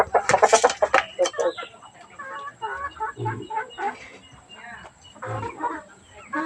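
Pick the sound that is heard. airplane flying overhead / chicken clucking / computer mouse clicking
chicken clucking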